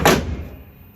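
The door of a 1954 Kaiser Darrin being restored shuts with a single solid, close thud that rings briefly and then fades.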